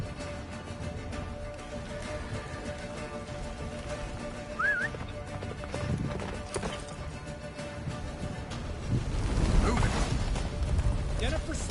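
Roach, a horse in The Witcher 3, gallops through a blizzard toward a fortress, steady hoofbeats buried in dense game noise, wind and score, with occasional crashes and a loud surge near the end.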